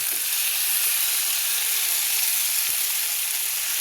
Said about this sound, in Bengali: আমার মশলা কিন্তু কষানো হয়ে গেছে